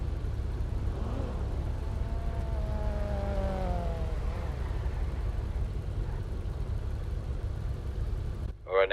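A police car siren in GTA V wails with rising and falling tones over engine rumble, fading after a few seconds, with people talking over it.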